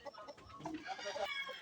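A native chicken, a Filipino backyard broadcock, clucks in a short burst of several close, fairly soft calls against a faint rural background.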